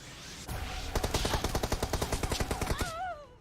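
Rapid automatic gunfire from the video game BGMI, a dense rattling burst of around twenty shots in quick rhythm, loud and close, followed by rising whoosh-like game effects at the end.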